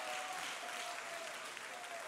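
A church congregation claps steadily throughout at a youth-week service, a dense, continuous wash of many hands with no gaps, with faint tonal sound running underneath.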